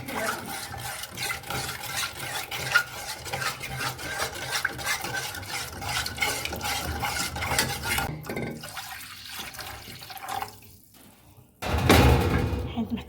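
Ingredients for a karantika batter, seasoned with pinches of salt and pepper, are stirred in a pot with steady, continuous scraping strokes over a rhythmic background, then a brief quieter gap and a louder rush at the end.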